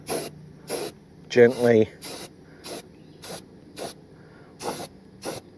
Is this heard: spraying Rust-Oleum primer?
yes